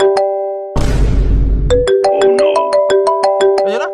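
A mobile phone ringtone plays loudly and close, a bright synthesized melody of repeated tonal beeps following a brief burst of noise, with no talking over it.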